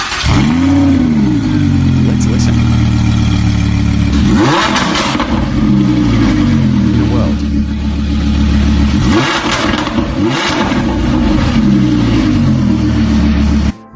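A Lamborghini Huracan engine with a new exhaust revs loudly up close in repeated sweeping bursts over a steady idle, with brief talk over it.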